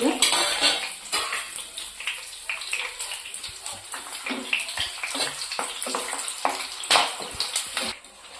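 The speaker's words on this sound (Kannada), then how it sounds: "ಈಗ ಇದನ್ನು ಎಣ್ಣೆ ಒಳಗೆ ಒಂದು 2-3 ನಿಮಿಷ ಇದನ್ನು ಹುರ್ಕೊಂಡ್ರಿ" Chopped vegetables for vada pav frying in oil in a pan, with steady sizzling and repeated scraping and clinking of a spoon stirring against the metal, close and continuous with no talking.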